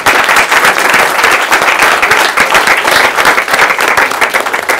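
A round of applause from a conference audience at a defence innovation event, loud, dense clapping from a full room, sustained evenly with crisp individual claps throughout.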